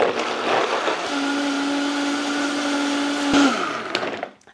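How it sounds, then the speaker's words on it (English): A blender whirs steadily on high speed, blending a pumpkin ice cream base with tofu and cashews, a smooth continuous motor drone that holds for several seconds before winding down at the end. "I'm going to put on the lid and blend it on high until it's completely smooth"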